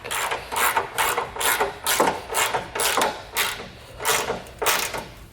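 A ratchet wrench tightens a bolt onto a Blue Ox tow bar base plate on a 2012 GMC Terrain, giving a steady run of about ten rhythmic, close clicking bursts with no talk.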